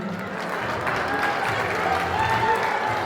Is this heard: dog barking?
no